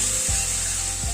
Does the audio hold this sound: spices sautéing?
yes